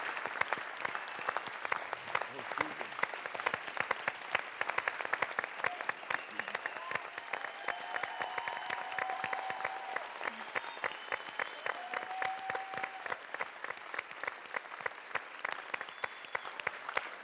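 A large audience claps steadily, dense sustained applause with a crowd murmur beneath it, continuing without a break.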